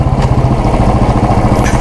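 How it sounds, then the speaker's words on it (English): A Royal Enfield Classic 350 fitted with an Indore exhaust idles nearby, giving a loud, close, rhythmic low thump. "I've changed the exhaust of this bike. It's the Indore exhaust, which gives you similar feel to the original Bullet."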